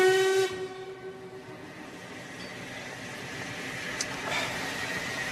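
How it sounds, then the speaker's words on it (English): A steam train whistle sounds briefly at the start as the train departs, followed by a continuous rumbling hiss of the railway setting and a faint second whistle later, fairly distant. "Was that the London train?"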